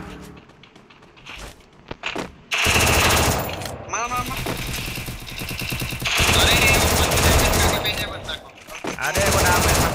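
Thompson submachine gun fire in the Free Fire battle game, loud sustained automatic bursts broken by short pauses, with a player talking between volleys.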